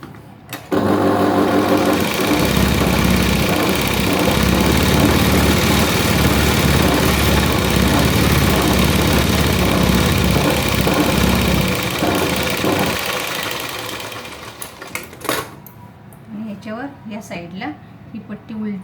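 A sewing machine runs steadily for about thirteen seconds, stitching the border of a V-neck blouse, a loud continuous motor whirr that stops abruptly, followed by faint handling clicks and rustles.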